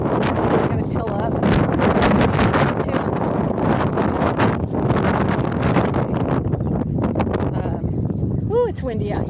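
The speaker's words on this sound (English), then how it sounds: "ooh, it's windy out here today." Gusty wind buffeting the microphone in an open Colorado garden plot, loud continuous blustery roar, with a voice speaking over it intermittently.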